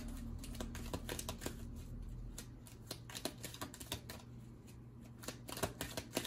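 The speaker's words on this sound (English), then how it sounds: "Let me just pull these cards." Tarot cards are shuffled and drawn by hand, a soft irregular run of quick flicks and taps, close and quiet, with no talking.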